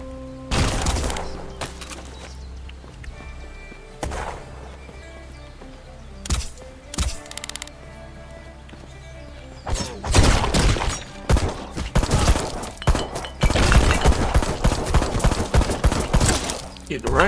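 Rifle shots and bursts of gunfire in the video game Black Skylands, a loud, dense barrage of sharp reports with scattered single shots early on and near-continuous firing in the second half.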